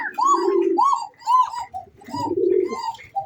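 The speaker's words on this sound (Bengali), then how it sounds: "এই যে এখানে যে মেয়ে কবুতরটি দেখতে পাচ্ছেন, আসলে ডাকটা একটু বসে গেছে" A female red Bashiraj Koka pigeon, her call slightly hoarse, coos up close in about six repeated rolling phrases with short breaks between them.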